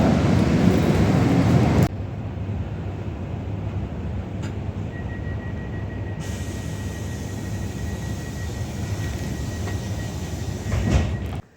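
A train rumbles past at close range, producing a loud, steady roar with a brief rise in intensity at the end and a faint high whine running through it.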